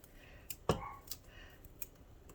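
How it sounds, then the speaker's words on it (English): Scissors snip through a celery-like vegetable stalk in a home kitchen during soup prep, giving a few sharp, close clicks, one louder cut standing out over a quiet background. "I'm going to use my scissors, and I'm going to cut my stalk"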